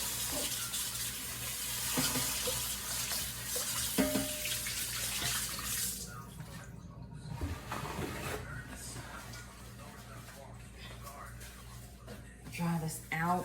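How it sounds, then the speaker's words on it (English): Running tap water pours steadily in a kitchen sink as a pot is rinsed while cooking a vegan omelette, a continuous hiss that fades and sputters near the end. "we're gonna rinse this real quick."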